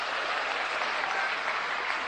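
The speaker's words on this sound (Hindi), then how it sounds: "एक बार जोरदार तालियां" Steady, dense applause from a large crowd at a political rally, clapping continuously and loudly throughout with no pauses.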